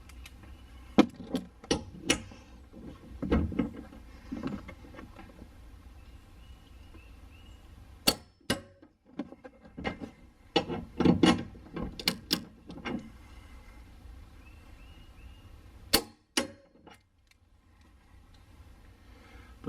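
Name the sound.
torque wrench tightening Nismo trunk brace bolts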